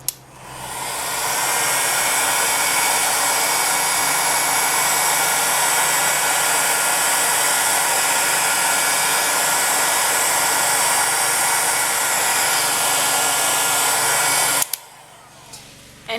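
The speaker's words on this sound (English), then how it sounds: "Then you can use a hairdryer or the lowest setting on a heat gun to dry it." A hair dryer blows continuously and loudly for a long stretch, a steady broadband whoosh that cuts off abruptly near the end.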